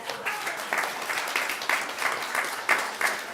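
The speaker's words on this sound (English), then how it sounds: "Woo, you can clap." A church congregation at a worship service claps together in a loose, fairly even rhythm, with voices mixed in under the applause.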